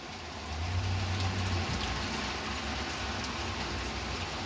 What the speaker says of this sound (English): I'm just standing out here in the rain.